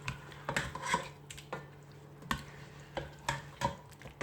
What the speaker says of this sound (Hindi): 1 मिनट अदरक लहसुन के पेस्ट के साथ भून लो